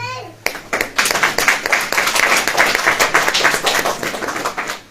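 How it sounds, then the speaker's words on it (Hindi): A church congregation claps hands during a sermon, starting abruptly after a brief pause and continuing as a full, rhythmic patter of many hands with sharp individual claps, close and sustained. "अब ताली बजाएं"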